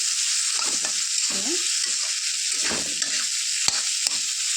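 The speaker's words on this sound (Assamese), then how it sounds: "জুইটো মিডিয়াম ফ্লেমত ৰাখিব আৰু এনেদৰে লাৰি কৰি বনাই দিব" Spicy mustard curry sizzles steadily in a hot pan over medium flame while a spoon scrapes and stirs in several short strokes, close up, with no talking.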